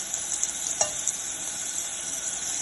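Ginger garlic paste frying in a little oil in a pan while making ragda masala, a steady soft sizzle with faint stirring scrapes, close and quiet.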